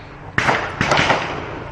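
Two sharp 9mm gunshots crack out at a shooting range, close and loud, the second following about half a second after the first, each trailing a short echo.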